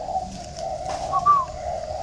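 Caged spotted doves coo softly in a steady low hum, with a brief brighter call rising over it near the middle, fairly close but quiet, with no talking.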